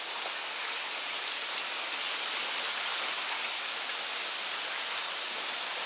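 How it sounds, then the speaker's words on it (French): Hail and gale-force storm wind, around 47 knots, lash a racing sailboat at sea, a steady loud broadband roar and hiss of wind, spray and pelting ice with no pauses. "Avec de la grêle."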